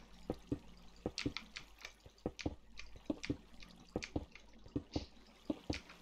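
Minecraft water with block sounds: a steady rhythmic series of short soft knocks and drips, evenly paced like a slow heartbeat, over a faint background.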